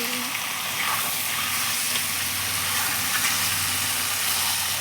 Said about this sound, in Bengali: চিকেন দিয়ে দিয়েছি কষাবো ভালো করে কষাতে হবে কষাচ্ছি